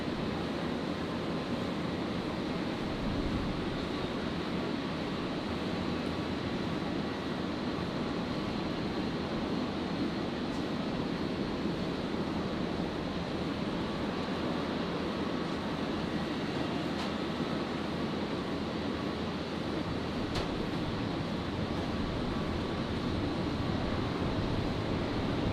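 A Jetstar airliner from Melbourne touches down on runway 01 right at Brisbane Airport, heard as a steady, broad roar of engines and air that holds evenly at moderate loudness throughout.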